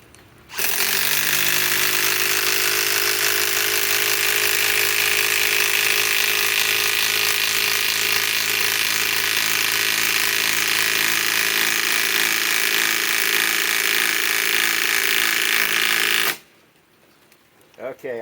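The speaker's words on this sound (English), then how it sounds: "now let's go with the Milwaukee M18 Fuel. It's like, I don't know, 3rd, 4th generation compact impact wrench." A Milwaukee M18 Fuel compact impact wrench drives a lag with a loud, continuous hammering whir for about sixteen seconds, then stops abruptly into near quiet.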